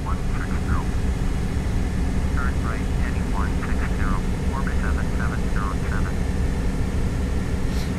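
Steady, loud drone of a Douglas World Cruiser propeller biplane engine in a flight simulator, constant and unchanging throughout, with faint chirpy radio or voice fragments buried beneath.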